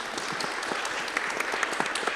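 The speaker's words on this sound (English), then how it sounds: "Can we give them a round of applause?" An audience applauds at the close of an environmental justice panel discussion, a moderately loud, continuous patter of many hands with a few sharper individual claps standing out near the end.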